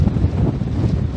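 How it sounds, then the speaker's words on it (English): Strong wind buffeting the microphone on a cold mountain hike in the Tehachapi Mountains, a loud, low, rumbling gust lasting about a second, with no one talking. "Very windy."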